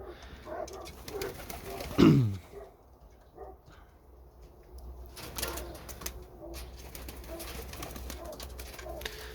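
A single low coo from a Polish Silver (Srebrniak Polski) domestic pigeon rises briefly over a steady background hum, followed by faint ambient rustling and distant noise.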